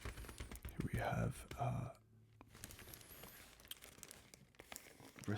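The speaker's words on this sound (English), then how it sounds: "recyclable plastic bag." Recyclable plastic bag made from recycled plastic being crinkled up close in short rustling bursts, with soft whispery talk around the handling.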